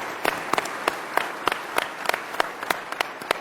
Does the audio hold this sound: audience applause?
yes